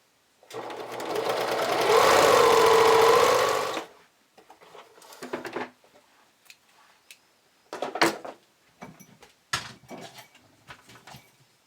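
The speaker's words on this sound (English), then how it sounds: "I'm going to stitch that together" A sewing machine stitches a camisole seam in a loud, close, steady run of about three seconds, then stops, followed by intermittent clicks, knocks and fabric handling.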